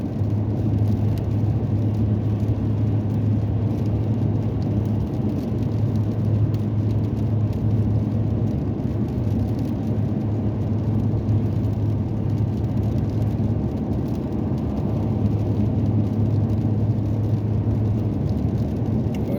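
Steady broadband road rumble and tire roar from a car cruising at nearly 80 mph on Route 93 North in the late afternoon, with a constant low engine hum running unbroken and loud throughout.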